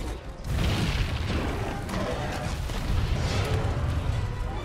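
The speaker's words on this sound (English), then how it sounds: "I bombed him while he was in midair" A bomb blows up against a monster in mid-air in the video game Monster Hunter World: Iceborne. The blast is a dense, sustained rumble that stays loud and close through the whole moment.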